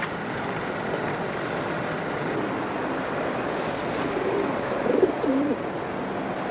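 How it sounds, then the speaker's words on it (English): Pigeons cooing at close range, soft low burbling calls rising briefly near the end over a steady rushing background, no talk. "These pigeons are really something,"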